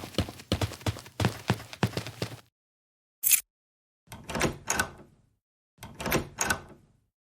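A locked back door of a family house is rattled and tugged in a few rough bursts of knocking, handle jiggling and thumping, separated by short silences, close by and without voices.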